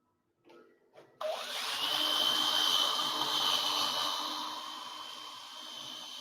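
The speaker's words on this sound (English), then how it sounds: "I quite often swap between normal rotation of the lathe, so forwards and backwards between grips." Wood lathe spinning up after a couple of faint knocks, then running as a steady, fairly loud motor whine with a high tonal hum that slowly eases off.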